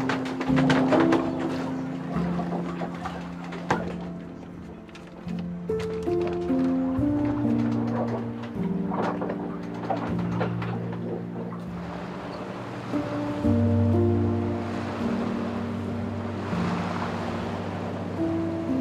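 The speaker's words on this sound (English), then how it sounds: "So we're motoring again." Sailboat running under engine power in light wind over lingering ocean swell, with a steady motor drone mixed with washing water and a low rumble that holds throughout.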